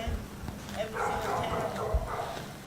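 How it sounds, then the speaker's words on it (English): Dogs bark repeatedly from inside a building nearby, sharp yelps breaking over a steady background with some voices. "more dogs still barking from inside"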